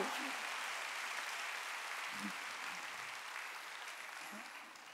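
A church congregation claps during a Korean sermon, with steady, fairly faint applause from many hands running throughout and a low voice murmuring beneath it now and then.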